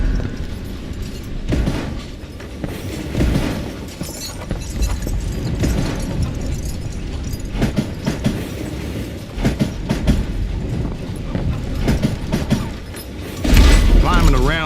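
A train moves along in the Western video game Call of Juarez: Gunslinger, with rumbling wheels and mechanical clanking running steadily under the game mix and a louder thump near the end.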